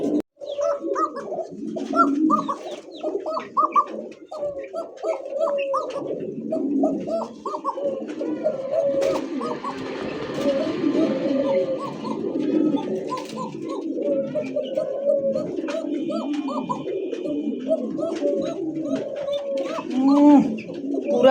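A pair of pigeons at a bird sale coo continuously, low rolling calls close up and fairly loud, with faint voices and background noise mixed in.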